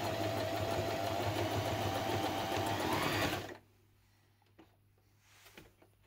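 A Janome 2200XT sewing machine stitching zigzag through fabric: a close, steady motor whir with rapid needle clatter for about three seconds, then it stops abruptly, leaving quiet room tone and a few faint handling noises.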